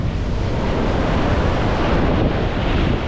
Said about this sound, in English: Oh! Waves.